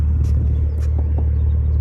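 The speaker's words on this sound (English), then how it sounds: "You can kind of hear this exhaust." A low, steady Ford car exhaust rumble on an E50 tune drones throughout, deep and constant, with faint higher noises passing over it and no talking.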